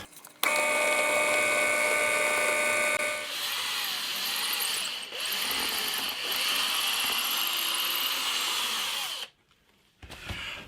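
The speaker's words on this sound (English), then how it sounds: "I'm going to drill a 3mm diameter pilot hole" A power drill whines steadily for several seconds drilling a 3mm pilot hole in wood, pitch shifting as it bites, loud and close before stopping abruptly.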